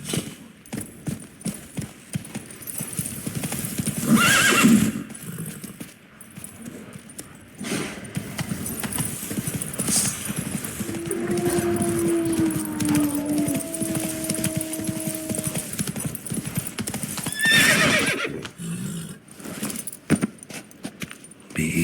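Roach, the horse in The Witcher 3, gallops with rapid hoofbeats and jangling tack, broken by sharper bursts, and a drawn-out tonal call midway that may be a neigh.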